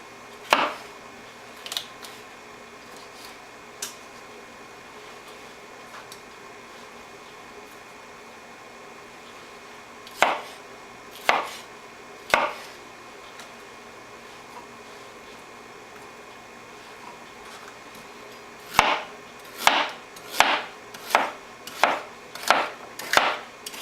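A knife chops vegetables thin on a board for a spicy chicken rice stir-fry: scattered single sharp knocks early, then a quick run of evenly spaced cuts near the end, close and crisp over quiet room hum.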